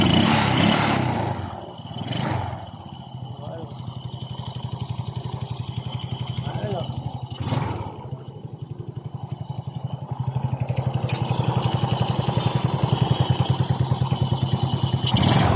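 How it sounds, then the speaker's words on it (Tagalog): A Suzuki Smash 115 motorcycle engine, just fitted with a new timing chain, idles steadily with an even low throb, a few sharp clatters breaking in near the start before it settles into a smooth, continuous run. "Ito naman ang tunog ng kanyang makina pagkatapos nating mapalitan ng timing chain."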